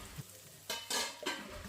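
Coriander powder frying in a pan of chicken curry, stirred with bursts of sizzling that rise in three strong surges after a quieter start, close and alone.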